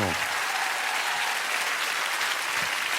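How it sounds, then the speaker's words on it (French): A French TV studio audience applauds Muriel Robin with steady, loud, continuous clapping that holds evenly throughout, close and full. "Je vous propose d'acclamer Muriel Robin, mesdames."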